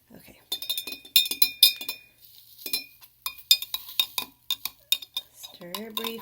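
Water stirred in a glass container for aquatic isopods, giving a run of light clinks and taps against the glass that come in quick bursts with short pauses, close and fairly loud.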